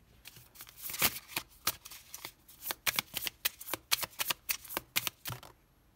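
Oracle cards being shuffled by hand, a quick run of crisp riffling flicks in a steady rhythm, close and moderately loud, with no talking over it.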